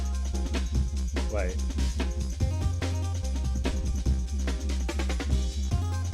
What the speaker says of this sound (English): So, for example, distortion freak sounds like this.